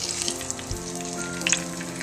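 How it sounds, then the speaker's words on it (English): Steady crackling sizzle of dry-rubbed salmon frying in a hot pan, close and continuous with small pops. "You hear that little sizzle, that means we're ready."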